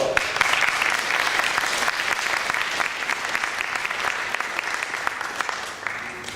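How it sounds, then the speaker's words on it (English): A convention crowd at opening ceremonies applauds steadily for several seconds, a dense patter of claps that fades slightly toward the end. "Let's give it up for Matt McElroy."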